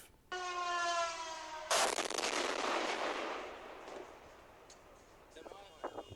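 A whining tone rises, then a loud drone strike blast erupts nearby and rolls away into a long rumbling decay, followed by scattered faint voices and noises, in Kyiv.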